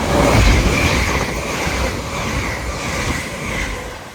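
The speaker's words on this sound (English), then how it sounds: "passing through now is an LNER Azuma en route from Hull to London King's Cross" An LNER Azuma train heading from Hull to London King's Cross rushes past Alexandra Palace on the East Coast Main Line, a loud steady roar and rumble close by that eases slightly as it goes.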